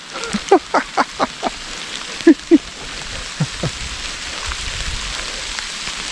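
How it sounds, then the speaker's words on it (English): Hail falls on the ground during a solo backpacking trek on the La Cloche Silhouette trail, a steady close patter with a burst of sharper individual hits early and two more strikes midway. "It's friggin' hailing."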